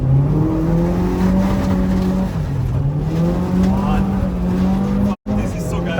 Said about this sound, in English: Just a little tap on the brakes and the rear comes loose.